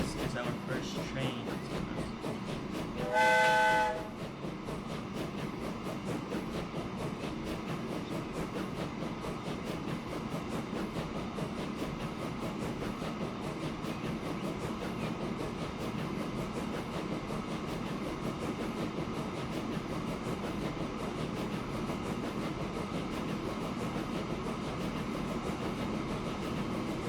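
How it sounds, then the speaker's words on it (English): A train running in the video game Transport Fever 2 gives a steady, continuous rolling rumble and engine hum throughout, with a brief horn-like tone near the start and no speech. "we are gonna see the train coming up"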